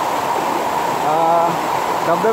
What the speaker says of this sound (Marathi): धबधब्याच्या बरोबर बाजूला आम्ही इथं आहोत